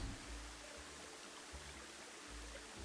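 A waterfall in the Planet Zoo video game gives a steady, soft rushing wash of water with faint low rumbling pulses underneath, continuous and free of voices.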